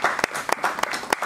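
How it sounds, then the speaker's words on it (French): A small audience at a Rotary Club meeting claps in sparse, distinct bursts, a few separate hand claps ringing out over a short moment. "Cher ami Junior, sous vos applaudissements, je veux te remercier et tu vas regagner ta place."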